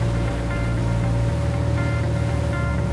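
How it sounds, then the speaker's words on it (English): A Tesoro Yachts T40 motorboat engine drones steadily with a low rumble while water washes and splashes around the hull, loud and continuous. "The boat stretches out on the water in a better way."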